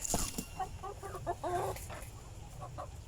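Rhode Island chickens, young birds nearly ready to lay, clucking in a farmyard pen with short repeated calls, fairly close and steady over a rumbling background.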